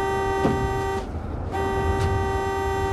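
A car horn blares in a long, steady honk, breaks off for half a second, then sounds again and holds to the end.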